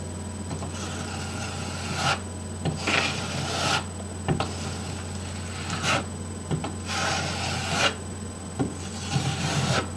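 A notched trowel grinds its teeth across a wall while spreading backsplash tile adhesive: repeated rasping strokes, close and steady, with brief pauses between sweeps.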